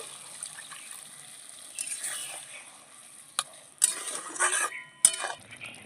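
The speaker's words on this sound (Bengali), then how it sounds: "সামান্য একটু দুধ দিয়ে দিচ্ছি" Milk poured into a pan of cooked pointed gourd in a pure vegetarian dish, giving a faint sizzle and stirring, with clinks of a utensil against the pan growing louder near the end.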